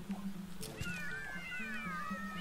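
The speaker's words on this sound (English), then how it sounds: "There you go, cat noise." A cat meows from a pet-cat Sackbot in the video game LittleBigPlanet 2, a drawn-out, wavering cry heard clearly over a low steady hum, with no talking.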